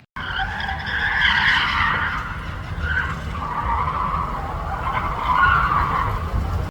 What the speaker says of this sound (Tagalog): gaya ng pagdidrift.